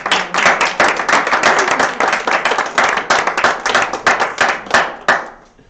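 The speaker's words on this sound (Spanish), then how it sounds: "Le aplaudimos a Julia." A small group claps steadily for several seconds, the applause brisk and close before tapering off into quiet at the end.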